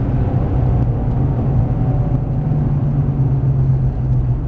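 Ford Mustang Shelby on a drift course easing off under braking, a loud, steady low engine drone heard from inside the car with no talk.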